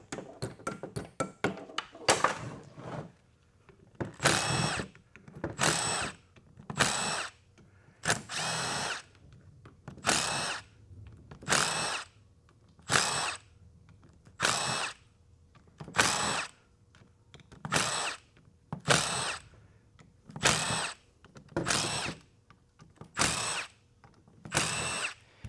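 Power drill boring a hole in a transmission valve body, the motor whirring in about a dozen evenly spaced bursts of a second or so with short pauses between, loud and close.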